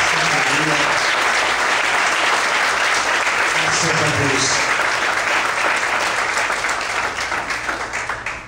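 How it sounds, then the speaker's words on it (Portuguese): Loud, sustained applause from a church congregation, many hands clapping in a thick, even roar that begins fading in the final seconds, with some voices mixed in. "Vamos desocupar a mão, aplaudir o Senhor de forte."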